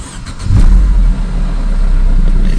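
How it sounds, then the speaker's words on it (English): A Mercedes W203 C-Class with a 722.6 automatic transmission cranks briefly and catches, its engine surging loudly for a moment before settling into a steady, close idle. "Right, now it's time to fire this engine up."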